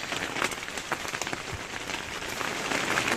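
Rain falling steadily on a dacha garden during a downpour, a dense, even patter with scattered louder drops throughout, no talking.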